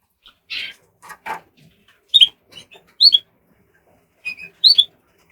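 Border canary cock birds in a wire cage giving short bright chirps and trills in scattered bursts, close and clear against a quiet background.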